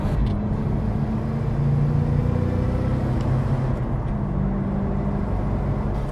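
A Grand Marquis with a 4.6 V8 and a 5-speed manual cruising at around 37 mph, heard as a steady, loud low engine and road rumble from inside the car, without any pauses.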